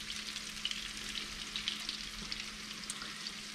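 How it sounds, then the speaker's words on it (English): Redfish sizzles steadily in a hot frying pan over medium heat, a continuous crackling hiss with small pops, close and even throughout. "our redfish are sizzling up great."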